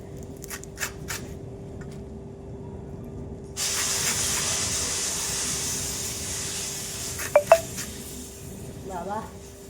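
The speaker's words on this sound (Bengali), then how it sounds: "জলটা বেশি হয়ে গেছে জল বেরিয়ে গেছে গ্যাসের অবস্থা খারাপ হয়ে গেল" Water boils over onto a gas stove: a sudden broad, steady hiss starts partway through and keeps going, with a few sharp clicks and faint voices in the background.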